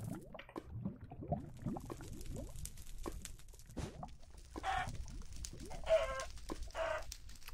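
Chicken clucking in Minecraft, several short soft clucks scattered over quiet background game noise, with a few brighter bursts toward the end.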